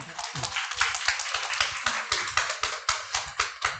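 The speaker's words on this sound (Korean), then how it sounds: "박수 부탁드릴게요." Clapping from a group at a company meeting welcoming the group leader, a steady run of hand claps close by with voices talking over it throughout.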